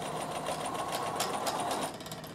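A Bernina sewing machine runs steadily, stitching over a flattened seam on a knit top, its fast even motor whir and needle chatter continuing close and loud before easing off near the end.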